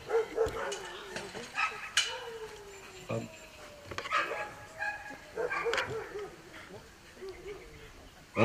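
A dog yips and whimpers in short, scattered bursts nearby, mixed with light rustling and movement sounds.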